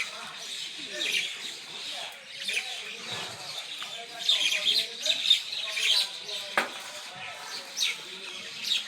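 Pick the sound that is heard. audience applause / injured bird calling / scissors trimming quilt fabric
injured bird calling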